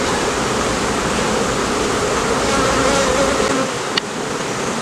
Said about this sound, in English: bees come right there.